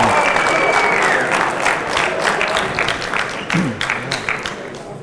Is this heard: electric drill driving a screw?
no